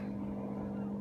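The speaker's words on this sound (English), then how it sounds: "there's a boat somewhere up there. You hear it?" A motorboat is heard far off near an old abandoned fishing shack by the water, a low steady engine drone that stays constant and distant throughout.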